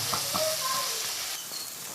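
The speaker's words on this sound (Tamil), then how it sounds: "நல்லா வதங்கட்டும்." Steady, close sizzling of tomatoes and coriander stems sautéing in a pan, a continuous crackling hiss, with a brief clink of a utensil at the end.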